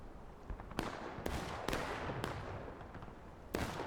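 Cannons firing in a Civil War video game, a series of sharp booming blasts at irregular intervals, about six shots, each with a short decaying rumble, over a low background.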